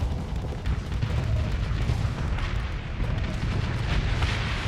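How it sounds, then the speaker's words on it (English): Harpoons on auto fire in a space battle video game, a dense, continuous barrage of deep booming blasts and rumbling explosions that overlap without pause. "I'm going to put my harpoons on auto fire at this point."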